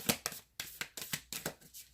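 A deck of playing cards is riffle-shuffled by hand, heard as a series of about eight sharp, close, papery bursts in quick irregular rhythm with no talking.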